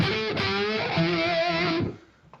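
An electric guitar played through a JHS PG-14 distortion pedal gives a short run of loud, saturated, buzzing notes that ring for about two seconds, then cut off abruptly into near silence.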